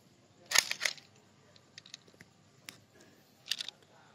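An air rifle being cocked by hand, producing a handful of sharp mechanical clicks and clacks spread unevenly over a few seconds, with a close cluster near the start and a later pair, in a quiet outdoor setting.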